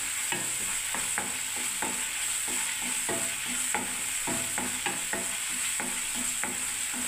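Cashew and poppy seed paste being stir-fried in oil for a vegetarian chhana dalna, with a steady sizzle under a regular rhythm of spoon scrapes and stirs against the pan, close and even throughout.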